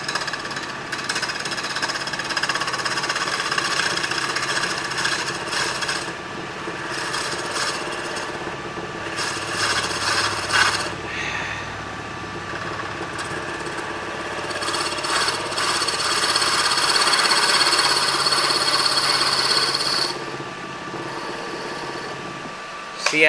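A lathe runs with a continuous whirring drone while a skew-style blade cuts wood in offset turning, the cutting rasping in surges that swell and fade over the steady motor hum.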